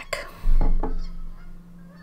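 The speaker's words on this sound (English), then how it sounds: "the geese are back" Geese honk outdoors in a quick cluster of two or three nasal calls, with a steady low background rumble continuing underneath.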